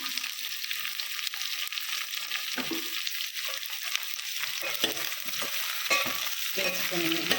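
Chopped carrots and bottle gourd pieces fry in hot oil for Andhra-style sambar, a steady close sizzle with stirring scrapes and clinks of the spoon against the pan throughout.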